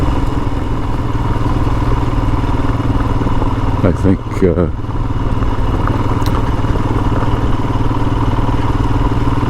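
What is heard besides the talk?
Royal Enfield Himalayan motorcycle engine while riding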